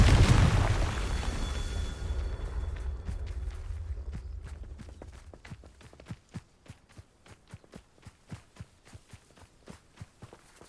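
A Confringo fire spell in the Hogwarts Legacy video game bursts with a loud, booming blast that rumbles and decays over several seconds, followed by a steady run of sharp, evenly spaced impacts or footsteps.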